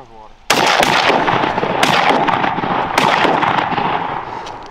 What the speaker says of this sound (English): Y'all shoot them ones on the water.